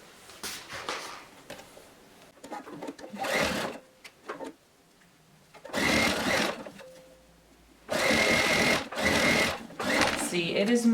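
A sewing machine stitches all the way around the edge of a fabric pouch bag in several loud bursts of whirring, broken by short pauses and faint handling noises.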